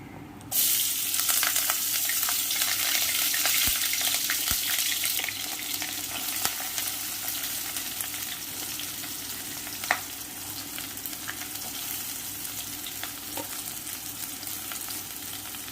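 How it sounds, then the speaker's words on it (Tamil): Onions fry in hot oil with a loud, steady sizzle and crackle, occasional sharp pops and stirring clicks, easing slightly after a few seconds, while cooking Chettinad chicken gravy. "இந்த ஆனியன் வதங்கட்டும்."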